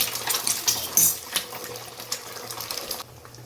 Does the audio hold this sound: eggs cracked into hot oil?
yes